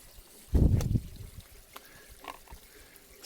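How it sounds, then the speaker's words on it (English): Water gurgles and trickles in a short burst as a siphon starts in a leaking bed of a new system, followed by faint scattered drips and splashes. "It sounds like we've got a siphon initiating down here."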